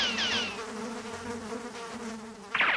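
A swarm of cartoon mosquitoes buzzes continuously in a whiny drone, with swooping high-pitched streaks at the start and a sharper burst at the end, close and fairly loud.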